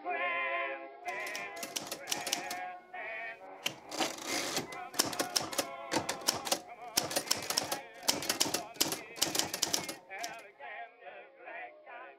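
Keys clatter on a customized vintage pink typewriter in quick, loud bursts of rapid strikes with short pauses between, carriage-bell-like dings near the end, all over old-time singing and music playing in the background.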